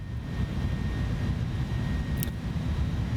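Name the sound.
Inibuilds A310 airliner engines in MSFS 2024 video game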